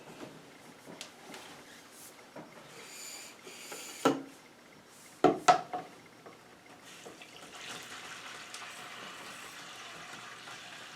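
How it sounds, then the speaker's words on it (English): Water splashing and trickling as a hand-made 2-inch PVC hand pump draws it out of a toilet bowl, with a few sharper knocks and gurgles from the pump strokes, heard fairly close in a quiet setting. "So let's try now to pump the water out from the toilet bowl here."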